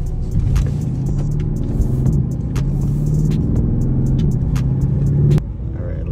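A 2012 Mercedes CLS63 AMG engine drones steadily as the car is driven on a local road, a loud, sustained rumbling hum heard from inside that holds fairly even before dropping off abruptly near the end.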